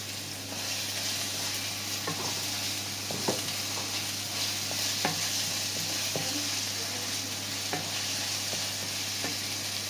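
Chopped onion toasting in hot oil in a pan for a creamy fusilli sauce, giving a steady close sizzle with occasional soft clicks and scrapes of stirring, no talking.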